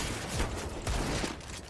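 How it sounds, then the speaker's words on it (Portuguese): Desert Eagle pistol fire in a shooter video game: two sharp, loud shots about half a second apart, over a steady background of game noise. "O tiro da Deagle dele bateu na minha AW."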